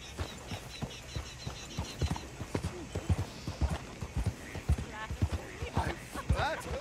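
Horses pulling a coach clip-clop steadily on a dirt road in the Red Dead Redemption 2 video game, a close uneven rhythm of hoofbeats with creaking and a brief whinny, while characters talk over it.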